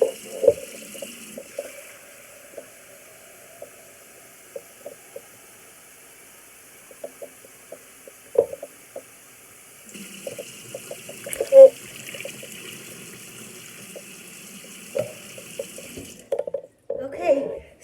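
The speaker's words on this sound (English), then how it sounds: "now I'm going to fill my pot up with water." Tap water running into a crock pot for bone broth, a steady hiss of filling water in two long stretches with brief clinks and knocks between, fairly close, with some talking.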